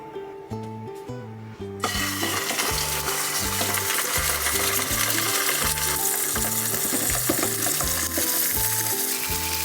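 Precooked roast pork heats in a pan inside a camper van on a midwinter night. A loud sizzle breaks in abruptly after a couple of seconds and then crackles steadily, with music playing underneath.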